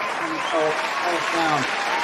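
Audience applause rises as a broad, even wash of clapping throughout, while someone speaks over it.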